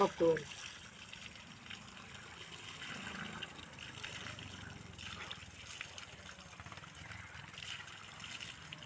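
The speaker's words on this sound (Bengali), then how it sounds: "টিউবওয়েল আছে হাতল আছে কিন্তু চাপা লাগে না পানিও একাই পড়ে" Water flows on its own from a tubewell, a continuous soft steady gushing, faint and sustained, while a voice speaks over it.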